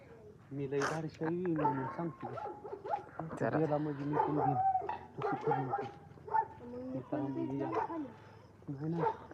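Dogs bark and yelp repeatedly nearby, overlapping barks filling the whole stretch with excited, uneven rhythm.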